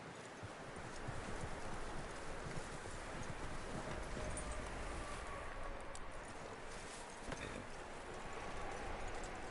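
Horse hooves clip-clopping in Red Dead Redemption 2; a steady rhythmic trot under rushing wind noise, fairly faint and continuous.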